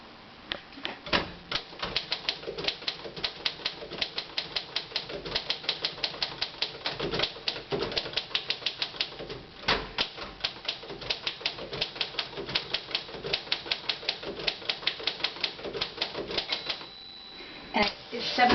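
Manual typewriter keys strike in quick, steady bursts with brief pauses, each keystroke a sharp close clack, and a carriage return or bell near the end; people talk intermittently over the typing.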